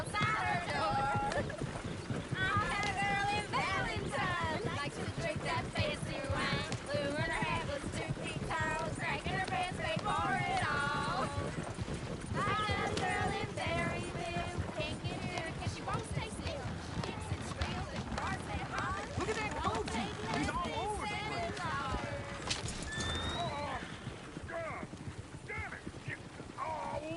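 Horse hooves clip-clopping at a steady gait in Red Dead Redemption 2, with occasional whinnies, a continuous rhythmic trot under game music and voices talking throughout.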